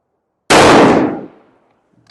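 A single sharp rifle shot fired during tuner load testing, close and loud, with a quick decaying echo tail and faint clicks afterward.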